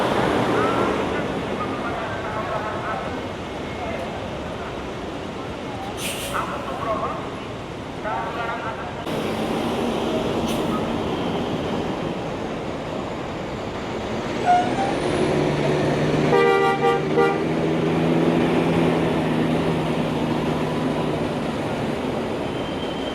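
A Kalingga B3 coach pulls away from a bus terminal platform with a low, continuous engine rumble that rises briefly, mixed with hiss and background noise while a person talks throughout.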